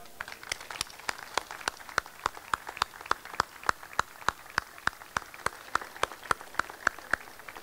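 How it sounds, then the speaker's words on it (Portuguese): Festival opening ceremony audience gives a round of applause, heard as sparse, distinct individual claps in a fairly steady rhythm, moderately near and somewhat faint, with no talking. "uma grande salva de palmas para ele"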